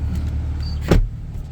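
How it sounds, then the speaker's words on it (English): A 2019 Kia Stinger GT door swings shut with one solid, close thump, set against a low, steady background hum. "if I just close this door up"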